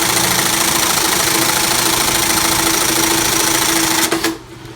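A Reece 101 keyhole sewing machine stitches a 1 1/4-inch buttonhole with a tail, a loud, steady mechanical chatter that runs close and continuous, then winds down and stops near the end.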